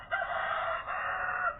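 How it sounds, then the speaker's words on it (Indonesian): A rooster crows loud and close in one sustained, wavering cock-a-doodle-doo that fills the moment alone. "Ayamnya berkokok-kokok."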